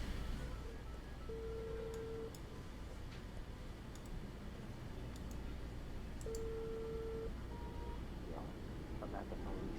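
A phone call rings through in the investigative detective game Unheard: two separate long, steady electronic tones about four seconds apart over a constant low background hum.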